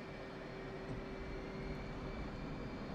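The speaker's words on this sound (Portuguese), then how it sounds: "Bora lá, vamos decolar" Steady, loud jet engine roar from an F/A-18C Hornet on its takeoff run in the DCS flight simulator, a constant broadband rumble with a faint high whine, no voices over it.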